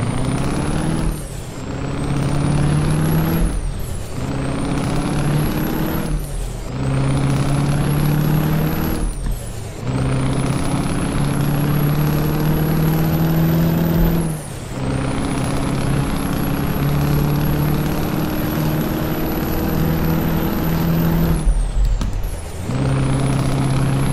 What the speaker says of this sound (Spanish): Y nos vamos a quedar callados para escuchar el motor